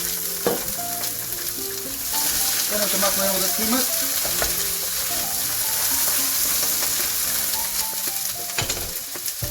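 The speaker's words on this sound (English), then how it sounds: "throw it in the pan with a little bit of, I'm just using a little bit of coconut oil" Chicken sizzles loudly and steadily in a hot pan with a little coconut oil, with crackles and occasional stirring clatter, while someone speaks briefly over it.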